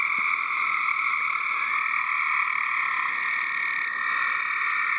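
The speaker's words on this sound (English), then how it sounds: "Tons of frogs in our pool." A dense chorus of frogs in a backyard swimming pool at night keeps up a continuous, loud, overlapping croaking trill, heard from a second-story deck with no talking.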